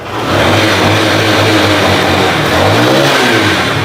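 Engine of a used motorcycle revving hard, a loud sustained roar that swells and dips slightly while held at high revs, close to the listener.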